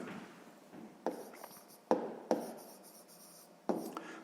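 Pen or pencil writes numbers on paper in short, close scratching strokes separated by brief pauses, quiet and near, with no talking.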